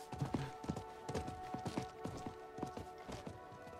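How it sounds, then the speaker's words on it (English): A horse in Diablo 4 trots with clear, hollow clip-clop hoof strikes at an even pace, moderately close, mixed with light ambient tones and no talk. "I think that was the merchant's horse."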